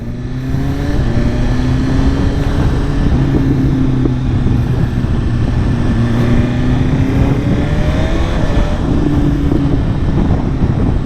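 A 2024 BMW S1000RR superbike, nearly stock apart from a slip-on exhaust, roars steadily and loudly while being ridden, its engine pitch rising and falling through gear changes under heavy wind rush.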